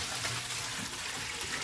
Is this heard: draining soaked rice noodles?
yes